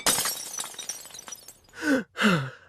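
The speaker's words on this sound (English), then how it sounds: "I broke a plate." A plate breaks in a domestic setting: a burst of crashing, scattering noise followed by two separate louder shattering bursts near the end, fairly close, with no talk.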